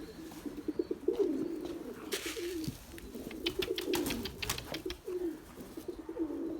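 Tumbler pigeons coo nearby in repeated low, throaty calls, with a few sharp bursts that sound like wing flaps partway through.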